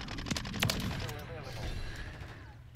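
A Minibak submachine gun in a first-person shooter rattles off a quick burst of sharp shots at the start, followed by game sounds and a speaking voice over the rest.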